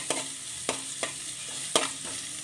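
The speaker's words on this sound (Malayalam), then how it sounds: "അതും കൂടി ഇട്ട് കൊടുക്കാം ഇഞ്ചിയുടെയും വെളുത്ത വെളുത്തുള്ളിയുടെയൊക്കെ ടേസ്റ്റ് ഒന്ന് മാറി വരണം" Ginger and garlic frying in a pan for seva uppuma, a steady soft sizzle broken by four sharp scraping stir strokes, close and moderately quiet with no talking.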